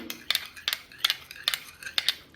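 Hair spa mixture being stirred in a small bowl, a series of sharp clinking scrapes of spoon against bowl repeating roughly every half second, close and fairly loud with no voices.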